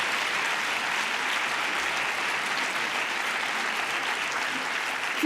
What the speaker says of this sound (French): Je crois que vous pouvez applaudir l'ensemble de l'équipe municipale qui nous accueille aujourd'hui.